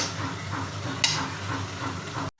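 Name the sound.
fish pieces stirred and fried in cooked spice masala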